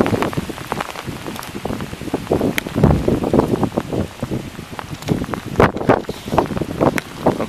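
Large hailstones pelt down hard by a pond at a camp, a dense, crackling patter with gusts of wind buffeting the microphone, loud and continuous throughout.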